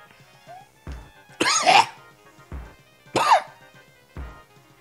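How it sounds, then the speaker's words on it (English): A person coughs and clears their throat several times in quick, harsh bursts, close and loud, with short quiet gaps between them and a faint tonal background. "I meant to agree with this coughing and hacking"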